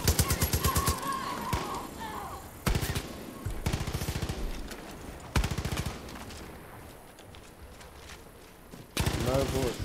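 Bursts of automatic gunfire from a Far Cry: New Dawn firefight, loud and close, come in several rapid strings broken by short pauses, with a final volley at the end.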